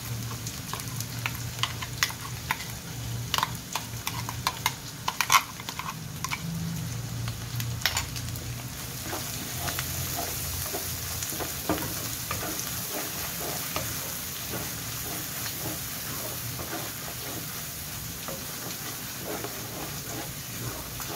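Steady frying sizzle of ground spice paste in a pan for prawn gravy, with occasional stirring scrapes and clinks, continuous and close throughout.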